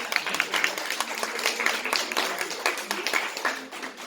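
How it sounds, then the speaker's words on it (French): An audience applauds children at a French stage show about inventions, steady, dense clapping lasting throughout with a few sharp individual claps standing out. "Alors, on peut les applaudir bien fort quand même, ils sont très courageux."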